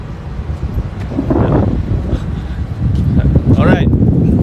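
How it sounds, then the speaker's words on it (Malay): Strong gusts buffet a microphone outdoors, producing low rumbling thumps that build in intensity while someone speaks over them. "Angin tiba-tiba kuat kat belakang ni."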